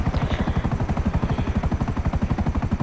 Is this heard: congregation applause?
no